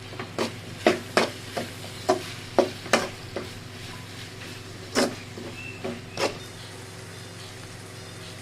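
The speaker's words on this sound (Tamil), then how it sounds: "தக்காளி போட்டு நல்லா வதக்கி விடணும்." Tomatoes sautéing in a pan for vada curry, with a steady low sizzle and about a dozen sharp spoon scrapes and knocks spaced through it, close by.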